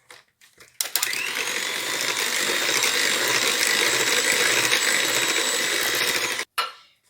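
An electric hand mixer whirs steadily for several seconds, beating eggs together with added sugar in a bowl, starting abruptly and cutting off near the end, with no talk over it.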